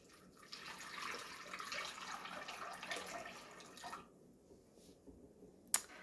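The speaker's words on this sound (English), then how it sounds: "So then you're gonna pour the water in." Water poured into a bowl of raw almonds set to soak for homemade almond butter, a steady close splashing trickle for several seconds that stops, followed by a faint clink.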